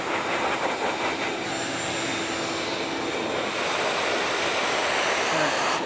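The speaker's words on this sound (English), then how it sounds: "Now I got my shop vac and I hooked my hose up to the exhaust port. And just blow this out." Shop vac blowing air through the exhaust port of a Cub Cadet Ultima zero-turn mower, a steady loud broadband roar like a jet whoosh that holds throughout with a slight rise partway.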